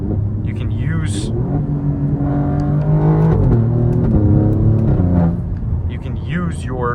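A 2024 Alfa Romeo Giulia Quadrifoglio with its ZF eight-speed automatic, engine rumbling loud and close as revs rise and blip through downshifts, with a person talking over it throughout.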